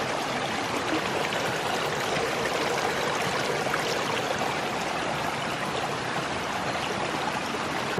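Water siphoned from a bucket through a 90-degree fitting pours into a flume in a steady, continuous rushing flow, close and even for the whole stretch with no talking.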